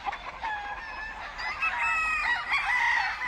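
Chickens and roosters on a Louisiana farm cluck and crow in a loud, busy chorus of overlapping calls, with several birds squawking at once throughout.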